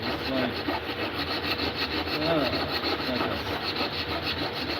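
Rasp-like file working across wood, a steady coarse scraping that runs continuously with rhythmic strokes, close and fairly loud with no talking.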